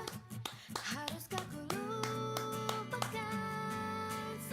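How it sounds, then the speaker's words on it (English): Hand clapping in a video game comes as a quick burst of claps, then a bright musical jingle takes over with sustained tones. "Someone is clapping near the studio door."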